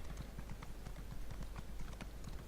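Horse hooves clip-clop at a steady trotting rhythm in The Elder Scrolls Online. The hoofbeats are close and continuous, layered over a dense background ambience.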